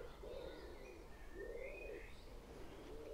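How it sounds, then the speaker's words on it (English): Blackbird singing in an English back garden in May, fluting phrases repeating at a distance over soft outdoor ambience, with a few higher chirps woven between them. "we've got the blackbird over there singing"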